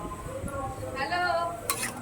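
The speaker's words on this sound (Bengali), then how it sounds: "এবার আমি এঁচোড়টা ভালো করে নাড়াচাড়া দেবো।" A spoon scrapes and clinks against a pan while young jackfruit curry with shrimp is stirred, giving a few soft knocks and a light sizzle, close and fairly quiet.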